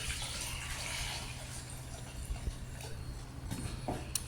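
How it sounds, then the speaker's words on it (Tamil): Water is poured over mutton trotters in a vessel to wash them, a continuous splashing, gurgling stream close to the microphone with a few small clinks near the end. "தண்ணி ஊற்றி கழுவிக்கலாங்க."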